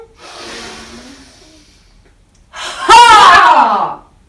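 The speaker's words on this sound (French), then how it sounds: "Il prend une grande respiration." A big deep breath drawn in and then a loud forceful exhaled shout, done as a woodchopping move in a yoga routine for young children; the faint inhale is followed by a sharp, close voiced release.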